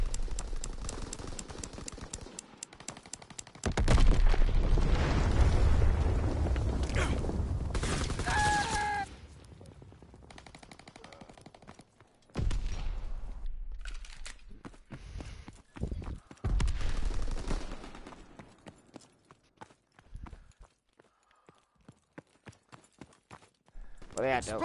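Gunfire in the World War II shooter game Call of Duty WW2, with bursts of loud shots and impacts separated by quieter gaps, mixed with game voices and effects.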